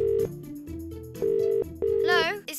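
Telephone tones from a toy-truck play scene, several steady beeps of dial and keypad tones in separate bursts, followed by a brief warbling ring near the end.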